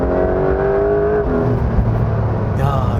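Steady, close exhaust note from a Porsche 911 GTS on the move, the engine tone easing down and then climbing again as revs shift.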